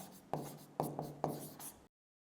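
Chalk strokes on a board during a Hindi literature lesson, three or four short scraping bursts close by, each starting with a sharp tap, then the sound cuts off abruptly.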